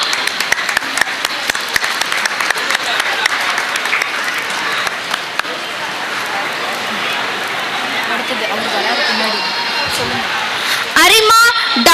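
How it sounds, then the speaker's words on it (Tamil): An audience at a school annual day celebration applauds to welcome a guest, with dense, steady clapping across the whole stretch and louder single claps standing out near the end. "கரகோஷம் எழுப்பி வரவேற்கலாம்"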